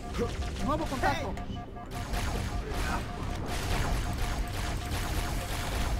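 Constant gunfire rains in from every direction during a massive Halo 2 firefight on Legendary difficulty, with crackling shots and impacts layered densely and continuously under a speaking voice.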